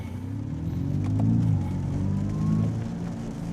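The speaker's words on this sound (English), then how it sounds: "And then downshift, you know, it does have that little rev style finish." A 2025 Kia EV6 GT electric car producing its simulated engine rev on a downshift, a low synthetic drone that swells and falls in pitch over a few seconds, heard from inside the cabin, no talking.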